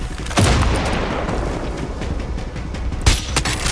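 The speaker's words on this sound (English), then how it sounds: "Oh, they're throwing nades!" Grenade blasts in the shooter Far Cry 6: a heavy booming burst near the start, followed by sustained rumbling gunfire and a second sharp explosion about three seconds in, all close and loud.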